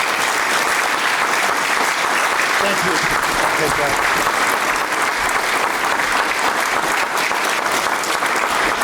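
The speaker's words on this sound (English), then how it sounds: "let's have another round of applause for Korey" Audience at a 2021 athletics hall of fame ceremony gives a sustained, dense round of applause for an inductee, steady and loud throughout, with someone briefly saying thanks over the clapping.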